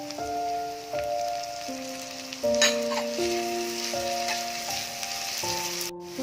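Chopped tomato hits a hot pan with ginger-garlic paste and browned onion while cooking a spicy Alibag-style prawn tawa masala, giving a steady, close sizzle that runs throughout beneath soft background music.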